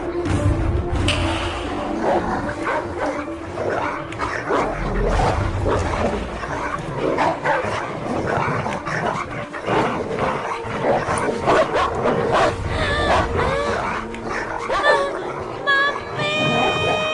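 Dogs set loose on a young girl in a South Indian action film bark, yip and whimper loudly amid a noisy, chaotic commotion that lasts the whole stretch, with voices mixed in.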